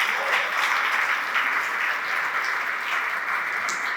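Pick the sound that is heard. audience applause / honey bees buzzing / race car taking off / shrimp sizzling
audience applause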